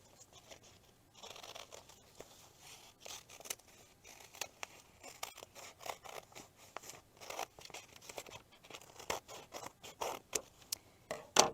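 Scissors snipping through fabric and paper along a stitching line for a paper-pieced heart pillow block, a close, quiet series of crisp irregular cuts and crunches.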